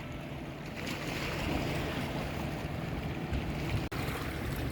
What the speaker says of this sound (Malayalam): ഈ കാണുന്ന ബോട്ടിലൊക്കെ മീനെ പിടിച്ചുകൊണ്ട് ആ ഹാർബറിലേക്കാണ് പോകുന്നത്